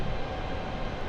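Steady broadband drone of a small plane's engine heard from inside during flight, loud and continuous with no talk over it.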